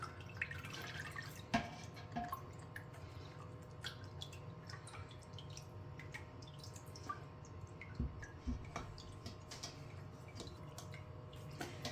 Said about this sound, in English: it's still going to take a while for it to drain out of the curds